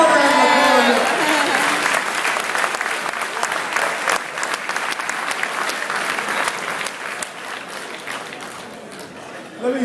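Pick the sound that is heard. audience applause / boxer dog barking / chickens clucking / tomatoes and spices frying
audience applause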